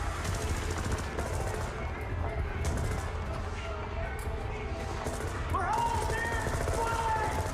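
Gunfire rattles in the StarCraft Remastered video game, rapid bursts of shots mixed with other game effects, continuous and moderately loud, with a voice talking over part of it.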